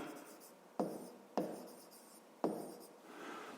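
A pen writes by hand on paper during a fifth-grade maths exercise, with soft, close scratching strokes and a few sharp taps as it touches the page, quiet and with no talking.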